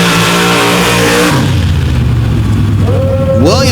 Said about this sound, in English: go side by side with Garrett Williams and another Chevy powered by a 632 ring racing engine